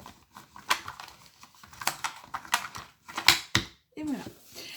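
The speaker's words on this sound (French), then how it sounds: "je dépose mes petites cartes" Tarot cards laid down one by one on a table, giving a series of close, crisp slaps and taps in an uneven rhythm, with a soft shuffle near the end.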